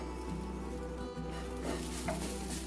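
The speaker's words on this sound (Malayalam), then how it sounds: "മീഡിയം ഫ്ലെയിമിൽ വെച്ച് വേണം ഫ്രൈ ചെയ്തെടുക്കാൻ" Chopped ginger, garlic and shallots fry in a pan over a medium flame, a steady close sizzle with soft patter and a brief stir partway through, no voices.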